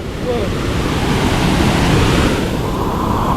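A stream swollen by torrential monsoon rain roars past in a loud, continuous rushing wash of water, close and unbroken, with a faint voice barely surfacing beneath the flow.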